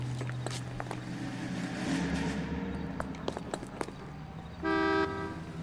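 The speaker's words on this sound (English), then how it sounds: "Honk, honk." A car horn honks in the L.A. Noire game during a gunfight, sounding in a loud sustained blast near the end over engine rumble and scattered gunshots.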